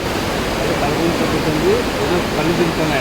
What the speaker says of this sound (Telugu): సూపర్ నది పరవళ్ళు తొక్కుతూ ఉంది